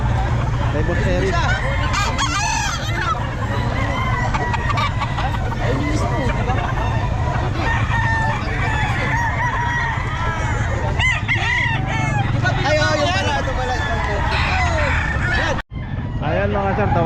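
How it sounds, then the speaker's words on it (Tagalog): Many roosters crow loudly and repeatedly at a crowded Bocaue pet market selling Kelso and Cardinal gamefowl, with overlapping calls and clucking under continuous nearby talk. "yung mga manok niya, ang dami oh"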